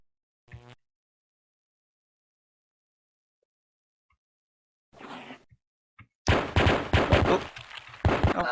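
Enemy gunfire hitting the player in the retro first-person shooter Pathways into Darkness: a few brief isolated blips early, then a dense burst of sharp, rapid shots and impacts in the last two seconds, loud and close.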